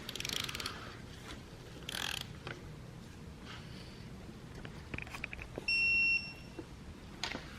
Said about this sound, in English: Now, take our torque wrench. I'm gonna tighten this one 280 as specified before.